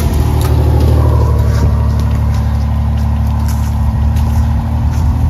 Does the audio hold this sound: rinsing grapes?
no